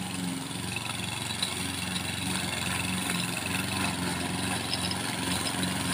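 A STIHL RM 248T self-propelled lawnmower engine runs steadily at a constant idle-like drone throughout, close and fairly loud, with no clear speech.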